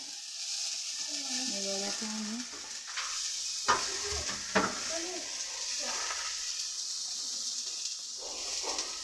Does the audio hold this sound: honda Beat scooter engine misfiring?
no